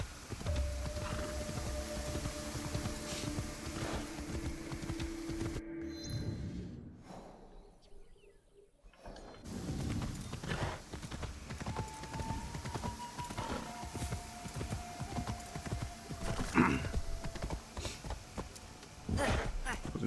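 Horse hooves clip-clop in Assassin's Creed Shadows as the horse picks its way down through a hidden forest, a steady run of light hoofbeats with tonal game sounds and a brief quiet gap midway.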